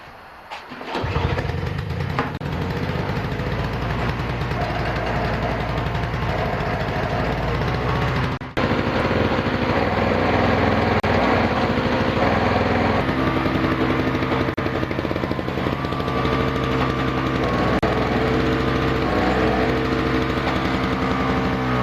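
A Yard Machines single-stage snowblower engine cranks and fires, sputters briefly after a moment, then settles into a loud, steady, close running chug.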